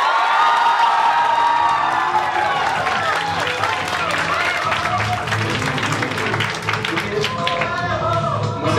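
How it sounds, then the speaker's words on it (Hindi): Loud crowd cheering, whooping and clapping fill a felicitation ceremony for NEET 2020 selections, a steady dense roar of voices and hands with some shouting throughout. "जोरदार हल्ला गुल्ला और ताली।"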